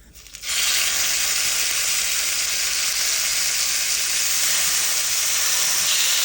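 Garlic frying in hot oil, heading toward golden brown for a beef dish, bursts into loud, dense sizzling after a quiet start and keeps hissing steadily and close up to the end, with no talking.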